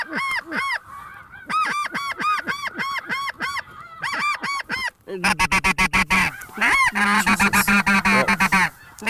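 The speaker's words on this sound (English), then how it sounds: "Hey, that's a snow goose, not a turkey, buddy." Snow geese honk loudly and close by during a hunt over decoys, sharp repeated calls in quick rhythmic bursts, with a denser stretch of overlapping honks toward the end and no talk.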